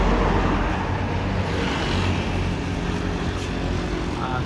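A Hino RK bus goes by on the road, its engine and tyres making a loud, steady roar that blends with traffic noise and holds up throughout, with no voices.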